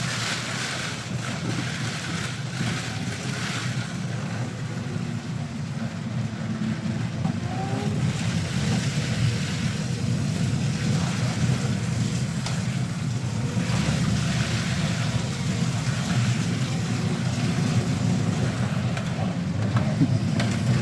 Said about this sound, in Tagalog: lakas na lang mga hampas ng hangin